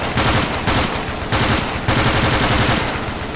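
Heavy sustained automatic gunfire in the war game Battlefield Somalia, loud continuous bursts with brief gaps between them, with no voices.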